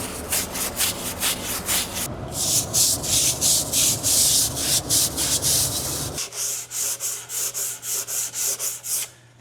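A towel or rag is rubbed firmly over an old wood mantle, about 137 years old, wiping away acid residue. The close, rhythmic scrubbing strokes repeat in quick bursts, alone and with no voices.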